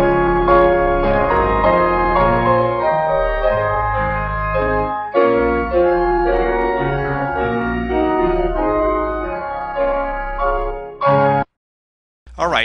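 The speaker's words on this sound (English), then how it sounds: "what you hear there is a wobble, quite a bit of artifact" Organ music transposed up a half step by pitch shifting, dense sustained chords with a wavering, warbly processing artifact, playing steadily for about eleven seconds before cutting off abruptly.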